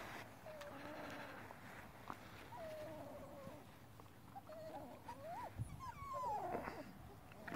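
Wolf mix puppies, 26 days old and outdoors for the first time, give faint rising and falling whimpers and squeaks that come in short bursts over a quiet background.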